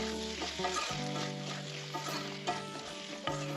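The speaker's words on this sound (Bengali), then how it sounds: "ভালোভাবে এটা মশলার সাথে কষিয়ে নিই।" Ridge gourd and potato stir-fried with spices and salt in a pan, giving a continuous close sizzle with scraping stirs of a spatula, under a steady hum and no talking.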